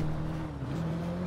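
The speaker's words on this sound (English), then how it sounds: "I thought I heard a motorcycle." A video game motorcycle engine hums steadily, a droning constant pitch with a slight dip midway, like a vehicle running close by.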